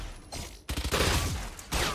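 A Spectre submachine gun in Valorant fires in fully automatic bursts, loud and close, with a brief pause between a short opening burst and a longer sustained stream of rapid shots.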